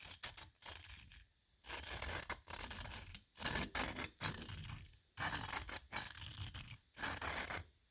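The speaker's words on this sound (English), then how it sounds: "that's the compound grinding all the crud off, and it'll resurface it" Valve being lapped into its seat with grinding compound on an SSR 125 pit bike engine top end, a close, rough rasping grind repeated in back-and-forth strokes separated by short pauses.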